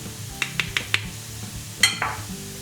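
Onion and flour toast in a frying pan for tofu in green sauce, with a soft sizzle under four quick, evenly spaced spoon taps against the pan and one louder scrape near the end.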